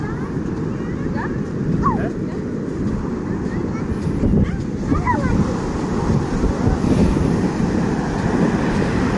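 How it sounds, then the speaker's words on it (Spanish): Heavy surf roars in a continuous wash at Barra Vieja beach, Mexico, with big waves crashing and rumbling nearby; faint distant voices and whistles rise now and then. "Miren nada más las olas tan tremendas."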